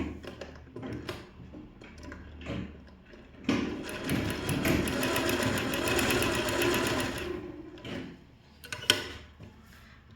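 A domestic sewing machine stitches blouse fabric. A close, steady rattling whir runs for several seconds among softer clicks and handling noises.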